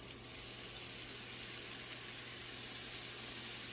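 Steady sizzling crackle like chicken frying in hot oil, a continuous hiss with a low hum underneath, fairly faint and unbroken throughout.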